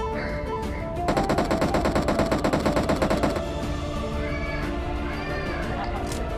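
Rapid automatic gunfire rattles in a battle royale video game, a fast burst of evenly spaced shots lasting about two seconds over game background sounds, followed by quieter in-game effects.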